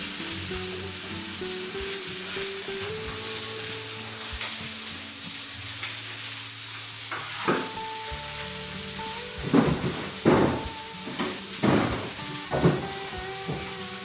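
Eggplant pieces fry in a pan, a close sizzle of hot oil that runs steadily with a few louder bursts and crackles toward the end; no talking.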